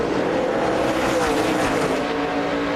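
NASCAR stock cars at the 2006 Food City 500 race back to green in a dense, loud roar of many engines. The sound swells and passes with no clear break.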